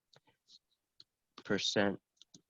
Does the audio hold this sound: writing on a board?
yes